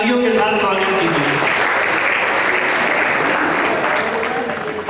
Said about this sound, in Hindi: तो आप सभी इनका तालियों के साथ स्वागत कीजिए।